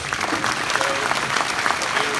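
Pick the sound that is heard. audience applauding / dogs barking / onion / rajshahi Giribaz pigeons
audience applauding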